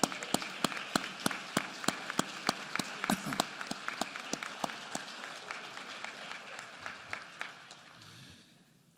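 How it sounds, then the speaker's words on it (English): Audience of a Philadelphia public school district event applauds parents at a State of Public Education address: a dense round of clapping with distinct sharp claps, steady then thinning and fading out near the end. "Let's give them a big rousing round of applause."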